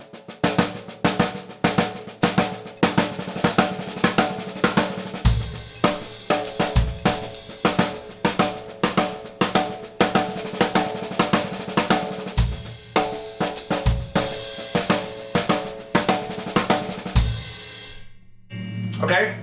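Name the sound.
drummer playing accented double-stroke sixteenth notes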